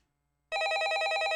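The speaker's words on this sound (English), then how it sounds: "Incoming phone call." A phone rings with an incoming call: after half a second of silence, a loud, bright electronic ringtone starts and pulses steadily.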